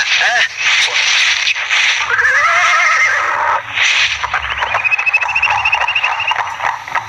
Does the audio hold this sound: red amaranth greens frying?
no